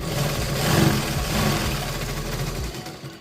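A sewing machine stitches a double seam on a katori blouse cuff, a steady rapid mechanical whir running close for about three seconds, then stopping, with no talk.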